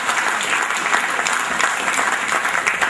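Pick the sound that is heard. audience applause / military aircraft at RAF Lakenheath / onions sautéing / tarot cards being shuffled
audience applause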